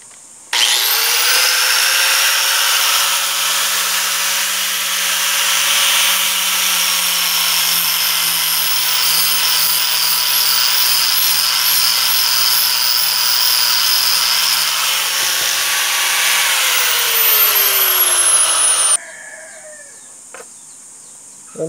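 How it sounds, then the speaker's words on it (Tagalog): An angle grinder trims the sides of a metal part for a roller-type reverse trigger mechanism, a loud, steady high whine that holds for about eighteen seconds, then winds down and stops, leaving near silence. "Using our grinder, kukunin natin siya. Babawasan natin."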